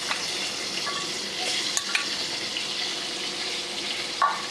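A steady, soft sizzle of thinly sliced potatoes frying in oil left from frying tangra fish, with black cumin tempering, a few faint clinks now and then and no talking.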